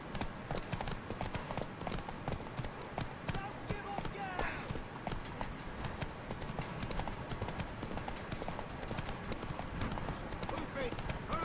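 Hooves of a horse in The Witcher 3 clip-clop steadily through a busy game scene, rapid regular impacts running throughout beneath voices and background music.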